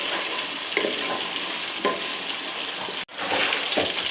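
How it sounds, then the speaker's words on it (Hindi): Garlic ginger paste frying and sizzling in a pan, a steady close hiss with a few soft scrapes of a spoon stirring it, briefly dipping before the sizzle resumes. "और लहसुन अदरक को भून लेती हूँ तकरीबन 1 मिनट।"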